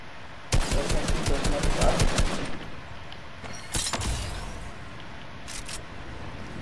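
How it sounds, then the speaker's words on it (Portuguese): Gunfire in the Fortnite video game: a rapid burst of close, loud shots, then a few scattered single shots over a quieter background. "Mas deu certo, eu consegui dar um tiro nele ainda"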